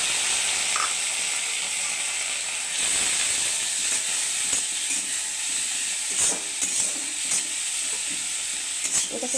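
Onion paste, garlic paste and slit green chillies fry in a pan with a continuous sizzle, and a spoon scrapes and stirs at intervals.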